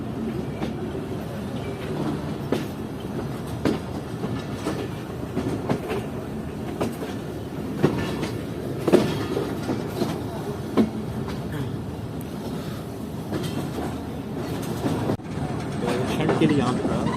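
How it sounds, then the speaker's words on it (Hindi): Jaffar Express passenger train near Quetta rolling on rails with a steady rumble and clickety-clack, and someone talking over it throughout. "आगे से ट्रेन निकल जाएगी।"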